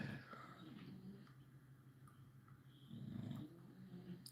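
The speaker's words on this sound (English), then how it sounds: "These dogs, they snore pretty bad." An English bulldog snores in slow, raspy cycles close by, one long snore swelling louder midway, over a faint background hum.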